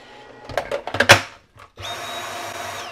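Power drill driving screws to fit a DeWALT battery adapter onto a Dyson V8 cordless vacuum: several short, loud whirring bursts close together, a pause, then a steady higher motor whine that runs on evenly.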